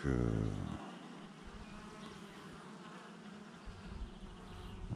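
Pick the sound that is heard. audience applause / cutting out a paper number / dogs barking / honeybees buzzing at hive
honeybees buzzing at hive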